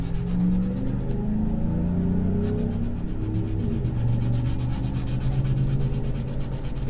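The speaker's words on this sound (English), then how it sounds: "So I'm just going to keep sanding a little bit." Sanding on the spalted maple finish of an Ovation CE44P guitar, with steady rhythmic rubbing strokes close up, continuous and alone without talk.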